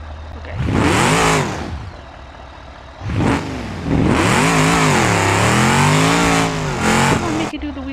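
Video game car engine revving hard as the car pulls a wheelie, with loud rising and falling pitch sweeps in several bursts, close and dominant, with brief quieter gaps between revs.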